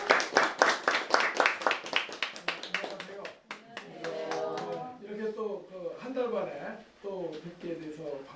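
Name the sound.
audience applause welcoming a speaker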